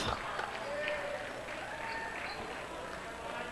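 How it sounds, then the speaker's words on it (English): Crowd applause in a gym at a boys' high school basketball game between Columbia and Guilderland. It is a steady roar of clapping and cheering under an announcer's talk. "Give him that applause"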